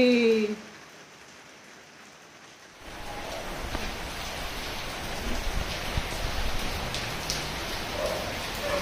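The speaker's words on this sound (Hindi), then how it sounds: "यहाँ पे अभी बारिश आ रही है इतनी तेज" Heavy rain starts abruptly after a quiet moment and then pours steadily as a dense, close hiss of drops on surfaces, continuing without a break.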